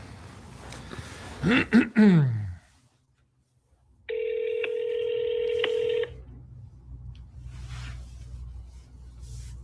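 A telephone keypad dials a quick run of DTMF tones for about two seconds, clear and close, after a brief stretch of talk and a near-silent pause, with faint room noise afterward.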